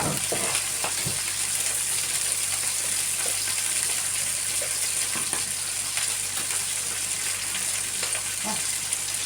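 Vegetables and red peppers frying on an outdoor grill, a steady close crackling sizzle running without a break, with occasional soft clinks and stirring noises on top.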